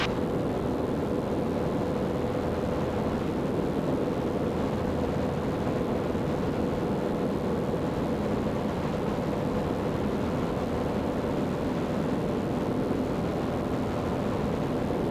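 Zenith light aircraft in flight on a demo flight, with a loud, constant engine and propeller drone and wind rush heard from inside the cabin.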